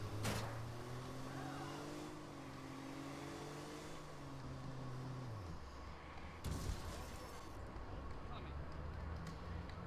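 A car driven in the video game Watch Dogs, its engine tone rising and falling through shifts under constant road noise, with a person talking over it.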